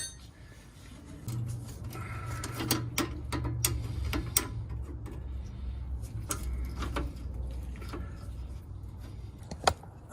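A ratchet wrench loosens a nut on the brake master cylinder of a 1978 MGB. Close, rapid bursts of ratcheting clicks and mechanical clatter are heard, ending with one sharp knock.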